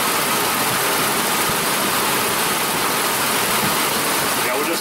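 A Mazda B3000 / Ford Ranger with a lean-running misfire (P0171) idling in gear, a dense, continuous rumbling engine noise up close with rough, uneven texture and no talking over it.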